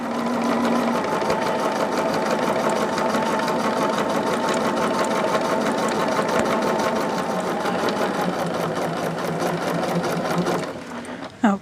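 A sewing machine stitches a fabric pouch in a steady, rapid run of needle strokes that lasts nearly the whole time, close and loud, then stops abruptly near the end.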